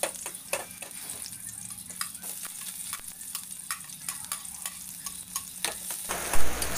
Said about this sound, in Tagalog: lalagay na natin ang mantika sa ating kawali at saka ilagay natin ang ating bawang at